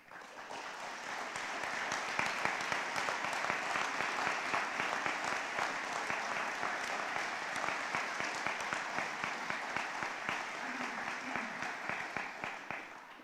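Applause at a Spectrum High School 2021 graduation ceremony for students standing to be recognized: sustained, even clapping from a large audience, somewhat distant, swelling in and holding for the whole stretch.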